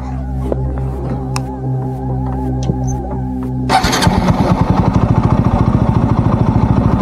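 A motorcycle engine starts on a roadside during a solo ride near a traffic stop, cutting in after a steady idle-like hum with a sharp burst, then settling into a loud, rapid, even chugging close by.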